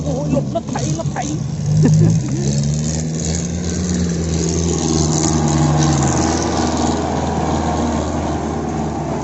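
A common-rail diesel pickup engine idles and then revs up, its deep throb rising and falling in pitch before settling back into a steady, rumbling run.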